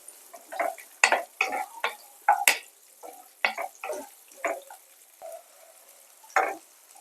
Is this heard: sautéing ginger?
yes